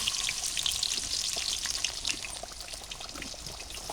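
Pieces of country chicken drop into a cooked-down spice paste, setting off a loud, dense, crackling sizzle that stays steady and close throughout.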